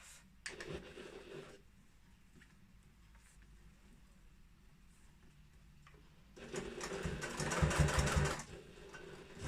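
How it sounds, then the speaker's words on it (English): A sewing machine top-stitches a bag in two bursts, a brief whir near the start and a longer, louder run later, with quiet handling between them and the needle's rapid ticking audible close by. "and then top stitch it down"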